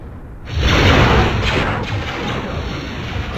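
A starship in a Star Wars space battle game mod takes heavy hull damage and implodes with a loud, rumbling boom. A sustained crashing roar follows and then slowly fades, with no talking over it.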